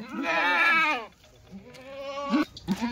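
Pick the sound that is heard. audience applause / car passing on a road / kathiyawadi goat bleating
kathiyawadi goat bleating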